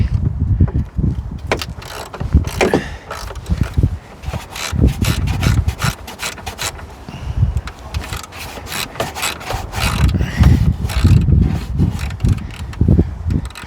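A ratchet works loose a battery hold-down bolt on a 2018 Chevy Malibu in cold weather, giving repeated close, gritty rasping strokes in an uneven rhythm.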